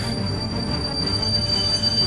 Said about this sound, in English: The train's stopping!